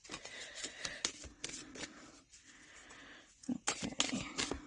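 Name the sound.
shuffling large cards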